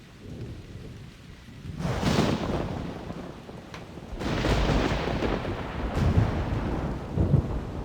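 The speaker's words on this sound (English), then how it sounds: "When I logged on, there was a big thunderstorm." A thunderstorm in the video game theHunter: Primal: steady rain hiss swells into deep rolling thunder, with several loud rumbling surges over the rain.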